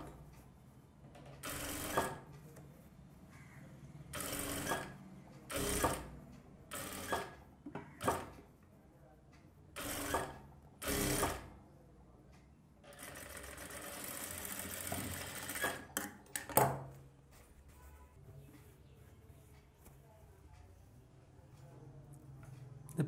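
A sewing machine stitches pieces of a katori blouse in bursts of rapid mechanical whirring. The short runs start and stop with pauses between them, and one longer run comes near the middle, close and fairly quiet.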